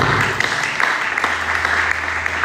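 A church congregation in Kinshasa applauds, a dense wash of clapping hands that runs steadily through the whole moment.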